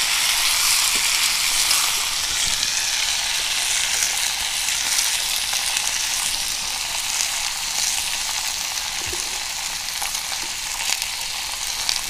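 Kachri (pehta) curry vegetables sizzle and fry steadily in a pan, a continuous bright crackle with occasional soft stirring noises, heard alone.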